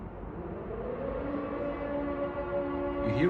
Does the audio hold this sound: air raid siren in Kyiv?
yes